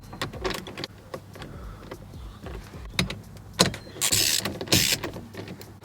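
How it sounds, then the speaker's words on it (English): Mechanical clicks and whirring come from screwing the center screw back into a VXR steering wheel fitted to a standard Vauxhall Corsa, with two louder, harsher bursts near the end and quieter scattered ticks before them. "You just want to screw the center screw back into the wheel."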